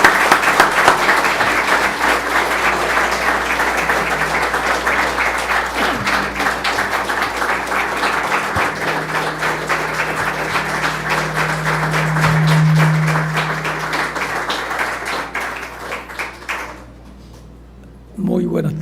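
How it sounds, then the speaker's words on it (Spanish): Loud, sustained audience applause welcomes a speaker to the stage at a religious gathering in Harlingen, Texas, with a hum and a brief tone underneath, then the clapping drops away abruptly near the end. "aplauso."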